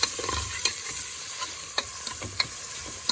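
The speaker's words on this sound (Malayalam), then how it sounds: "ഇത് നമുക്കതൊന്ന് ഇളക്കി കൊടുക്കണം ഗ്യാസ് നല്ലോണം വഴണ്ടി വരട്ടെ" Onion, garlic and cinnamon fry in a pan over gas, a bright constant sizzle punctuated by sharp scrapes and taps of a stirring utensil every half second or so, close up with no talking.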